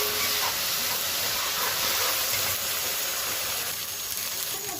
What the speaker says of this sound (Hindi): अब मैं इसके अंदर लहसुन अदरक शामिल करूँगी